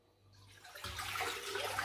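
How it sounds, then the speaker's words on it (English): Water pours steadily into a cooking pot on a stove, starting faint and building to a fuller, continuous splashing rush. "So I'm pouring water"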